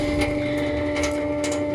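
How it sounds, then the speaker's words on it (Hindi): A leaking water tap gives off a steady, whistling, conch-like tone that holds throughout, close and fairly loud, with faint knocks beneath it. "अपने इस नल से कि लीक होता है और ये अलग तरह के साउंड निकालता है।"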